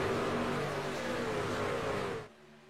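Several stock cars roar loudly together as the field accelerates back to racing, a dense sustained engine drone that cuts off abruptly near the end.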